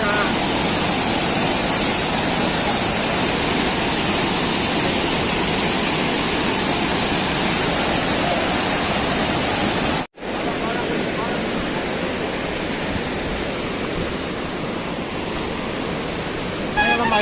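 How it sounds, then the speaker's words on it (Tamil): Waterfall at Hogenakkal, a loud continuous broadband roar of rushing water filling the whole clip, with a brief cut near the middle and faint voices mixed in. "சார் இதுதானே ஃபால்ஸு?"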